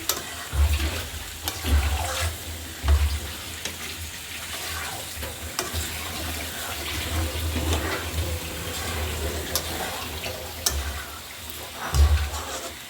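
Chickpea lentils frying together with beef fat in a pan, a steady close sizzle with periodic stirring scrapes and low thumps throughout, no talking.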